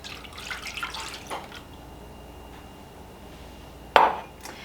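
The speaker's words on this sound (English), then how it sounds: "I'm going to pour in 1 cup of milk." Milk is poured into a bowl of cheesy cornbread quick-bread batter, giving a soft, quiet liquid splash and trickle during the first second or so, then a lull and one sharp clink near the end.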